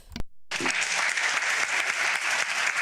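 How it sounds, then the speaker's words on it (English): An audience at a debate breaks into sustained loud applause, dense continuous clapping after a brief sharp noise at the start. "who's ever clapping needs to be taken outside"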